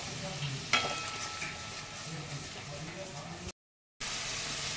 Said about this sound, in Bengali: দেখো মশলাটা আমার একদম কষানো হয়ে গেছে, পুরো তেল ছাড়া শুরু করে দিয়েছি।